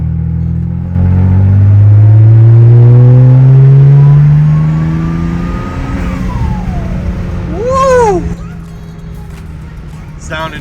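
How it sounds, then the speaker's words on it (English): BMW N54 twin-turbo engine idling up as the turbos spool without throttle, a loud rising drone that climbs in pitch, then a whistling turbo sweep near the end, heard close and alone. "I'm not giving it throttle. We're just spinning the turbos up."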